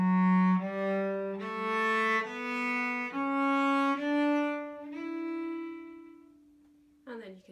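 A cello plays a slow, sustained line of bowed notes stepping through a Dorian-mode scale for a Celtic jig, clear and close with no other sounds, ending in a brief scratchy bow noise.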